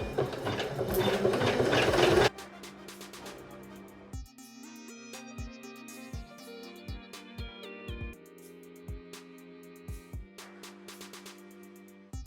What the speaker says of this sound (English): now we're going to stitch the eraser